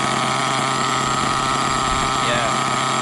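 The small high-revving nitro engine of an HPI Trophy Truggy 4.6 RC truck idles steadily with a buzzing, constant drone, close by and fairly loud.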